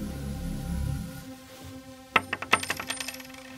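A coin is tossed during a horror story game and drops onto a hard surface nearby, giving a bright ring followed by a quick series of rattling bounces that settle out, with no voices.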